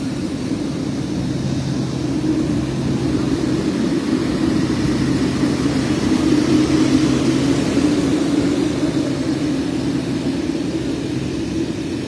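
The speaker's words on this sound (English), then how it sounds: "So Boeing 787 aircraft." A Boeing 787 airliner's engines give a steady, broad roar at an airport in Addis Ababa, Ethiopia, the even rumble holding without a break and swelling slightly midway.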